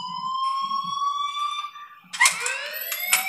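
An alarm rings in the Life Is Strange video game, a sustained electronic tone with harmonics that holds steady, then gives way to louder, sharper bursts and rising tones near the end.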